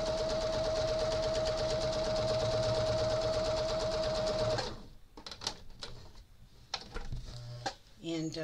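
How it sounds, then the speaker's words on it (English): Sewing machine stitching a quilt, running in a steady fast whirring hum for several seconds before stopping, followed by scattered clicks and handling noises, close by. "Come on, sewing machine."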